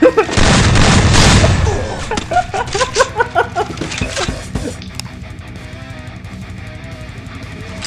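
Gunfire and explosions from a Free Fire-style shooting video game, with a loud dense burst of blasts and rapid shots at the start, then scattered pops and game effects fading to a quieter background under occasional voice.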